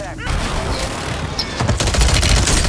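Gunfire in a first-person shooter on Rebirth Island, a rapid burst of shots rising toward the end with a shotgun in play, loud and close over a dense mix of game sound.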